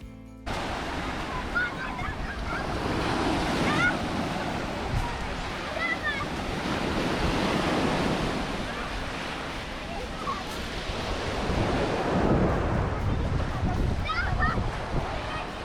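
Sea waves on a sandy-pebble beach with a gently sloping shore at a resort in Konakli, Alanya, Turkey: continuous surf washing in and out, with wind buffeting the microphone and a faint wash of voices in the background.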